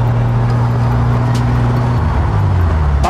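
A QVR car built on BMW running gear with a 2.5-litre engine and manual gearbox, heard up close as a loud, steady low engine drone that shifts pitch slightly near the end.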